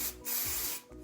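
A single close burst of hair spray from an aerosol can hisses for about half a second, with quieter hiss just before and after.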